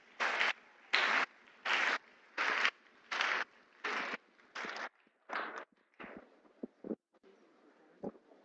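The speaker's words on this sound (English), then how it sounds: "Shall we welcome her with a round of applause?" An audience at a children's gardening and small animal rearing competition in Ghana claps in regular, evenly spaced bursts, fairly faint and distant, then breaks into a few scattered, fading claps.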